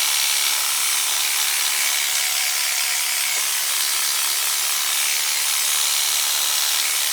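An Artero hair clipper with freshly sharpened blades runs steadily, a loud, close, constant high buzz with a faint rattle and no talking.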